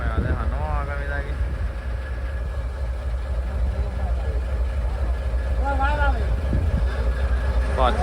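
A boat engine idles steadily and loudly at a Maldives island after an apparent breakdown, a constant low drone throughout, with people talking over it now and then.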